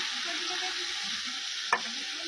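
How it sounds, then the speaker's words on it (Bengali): Spices with ginger, garlic and capsicum frying and being stirred in a pan, a steady close sizzle with one sharp scrape or clink of the spoon near the end, no voices. "আগে মশলাটা মিক্স করে নেওয়া হচ্ছে।"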